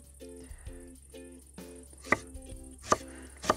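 Fresh ginger being sliced into long strips with a knife for a squid-and-vegetable dish cooked outdoors over a campfire: a few sharp, crisp chops striking a board, spaced irregularly over a quiet background with faint buzzing.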